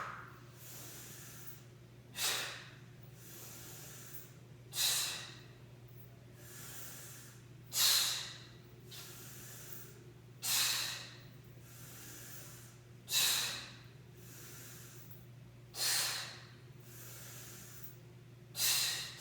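Slow, deep breaths during a vinyasa yoga flow, each a soft rushing breath sound repeating about every two and a half seconds for around eight cycles, close and alone over a low steady hum.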